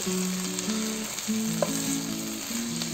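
Vegetables sizzling and frying in a pan for vegetable pulao, a steady close crackle with light stirring and a few soft clinks, no voices.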